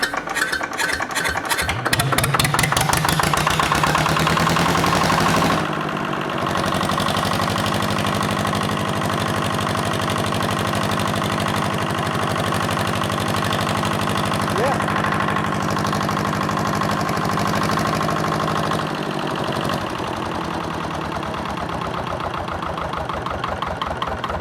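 An old Lister generator engine is cranked by its start solenoid and catches, then settles into a steady, loud, close-up running chug with a regular knocking beat, accompanied by a voice.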